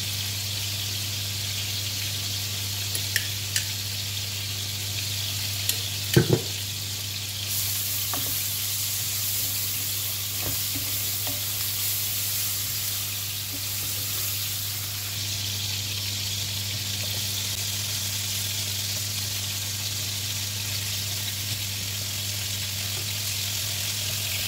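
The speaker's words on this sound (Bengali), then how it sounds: "চুলায় মশলাটা কষাচ্ছি।" Spice masala and farm chicken fry in a pan on a stove, a constant loud sizzle running throughout with a few sharp clicks of stirring near the middle.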